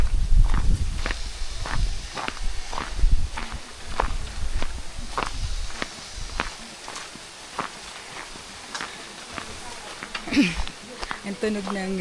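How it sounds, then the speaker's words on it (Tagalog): Wet slippers slap along the ground beside a clear waterfall stream in a remote nature spot, a steady rhythm of sharp close footsteps under intermittent talk. "Ang tunog ng tsinelas ko."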